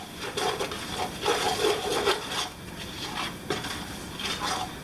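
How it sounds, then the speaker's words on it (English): Spoon scraping and rubbing through a seasoned mixture as pepper is stirred in, made in a poor man's lobster fish recipe: a series of close, rhythmic scraping strokes in uneven bursts, with no talking. "So we'll stir that in"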